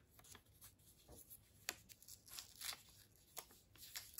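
A signed sheet of paper is rolled up by hand, giving faint, close crinkling and rustling with soft crackles scattered unevenly throughout, with no talking.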